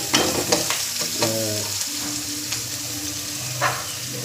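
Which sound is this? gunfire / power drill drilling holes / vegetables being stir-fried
vegetables being stir-fried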